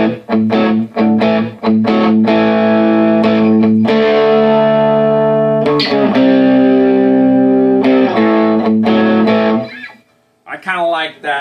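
Electric guitar on a Fender Player Strat through an MXR 78 Badass Distortion pedal set around 1 to 2 o'clock into a Peavey Classic 30 amp, playing loud sustained distorted chords and riffs for about ten seconds before a brief pause and a short final phrase.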